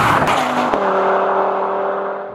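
A 2016 Audi TT RS engine fires up with a sharp burst and settles into a loud, steady idle close by, the rumble easing slightly toward the end, with no talk.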